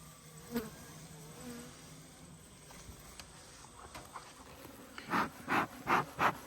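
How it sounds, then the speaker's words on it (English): Honeybees buzzing in a hive, a soft hum with nearby pulsing flight buzzes rising toward the end, close and alone without voices. "Plenty of bees in here."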